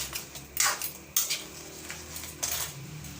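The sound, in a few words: stirring boiling pot with ladle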